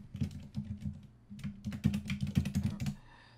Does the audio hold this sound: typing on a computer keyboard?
yes